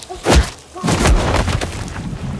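An exaggerated movie punch sound effect lands as two deep, bass-heavy booms a moment apart, the second trailing into a rumbling decay.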